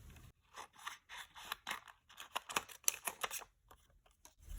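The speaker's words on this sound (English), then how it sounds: "I'm now going to use my snips and cut out like a little band underneath." Rapid crisp snips of small metal snips cutting a narrow band of paper from a die-cut cloche shape, a quick irregular series of close, quiet cuts with brief pauses.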